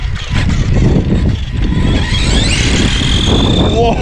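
Tamiya Blackfoot RC car with a TZ motor runs outdoors near a blast furnace on rough mountain terrain, a steady loud electric whine with rising pitch sweeps over constant rumbling wind and ground noise, continuous throughout.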